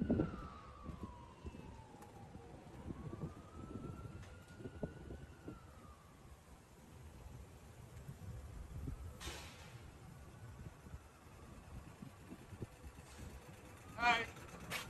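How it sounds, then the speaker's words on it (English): A distant police siren wails faintly from afar in the street, rising and falling under quiet ambient noise, with a few sharp knocks and nearby sounds. "They got sirens on."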